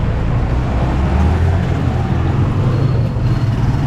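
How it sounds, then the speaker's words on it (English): Steady road traffic noise near BGC in Metro Manila, a continuous low rumble of passing cars and buses heard close by while walking, with no talking. "A little bit of traffic getting closer to BGC here."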